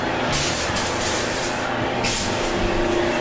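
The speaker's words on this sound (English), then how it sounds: "You spray in a S pattern from the floor to the ceiling." Cleaning solution sprayed across a restroom's sink, urinal and baby changing table, sweeping floor to ceiling in an S pattern; a continuous loud hissing spray runs nearly unbroken, with a brief dip partway through.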